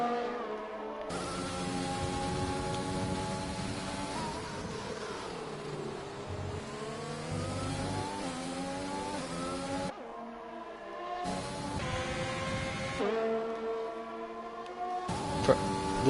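Formula 1 race cars in F1 2020 at the Australian circuit, high-pitched engines whining and revving close together, pitch rising and falling through gear changes, with brief cuts between camera views.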